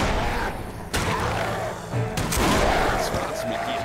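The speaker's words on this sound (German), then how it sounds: "2 kritische Schüsse und du bist passé." Gunfire in the fantasy video game Risen 3, a few sharp shots and bursts spread over a few seconds, mixed with game effects and background sound.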